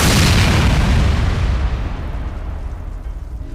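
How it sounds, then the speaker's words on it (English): A drone strike blast on a vehicle setting off its stored ammunition, a loud close boom that decays into a long rumbling roar with crackling bursts fading over several seconds. "The initial blast dealt heavy damage and triggered the stored ammunition."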